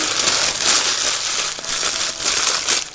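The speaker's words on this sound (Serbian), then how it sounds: "1 papir za pečenje, prvo ću zgužvati" A sheet of baking paper is crumpled by hand, a continuous loud crinkling and crackling rustle lasting several seconds, close up and without speech.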